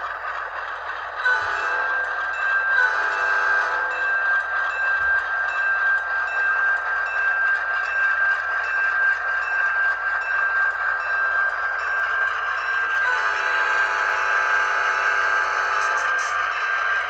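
A digital-sound model diesel locomotive, an ALCO or GP-type model train, pulling out with a steady, loud engine drone and sustained horn-like tone that lasts throughout, rising slightly near the end.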